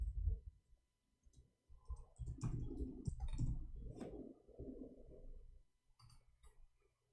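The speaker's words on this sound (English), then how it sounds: "Oh, I'm typing in Arabic." Fingers type on a computer keyboard in quiet, irregular bursts of close clicking keystrokes with short pauses between.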